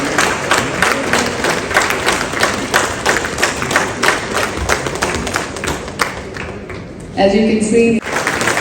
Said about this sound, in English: I'm sure that we can clap for them